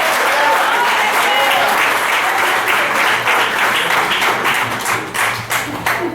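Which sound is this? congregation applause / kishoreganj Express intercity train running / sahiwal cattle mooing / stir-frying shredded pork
congregation applause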